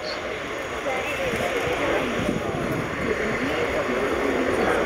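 An L-159 jet passes during the Yeovilton naval airshow with a broad, steady roar and a thin whine on top. A commentator's voice is heard over the public address.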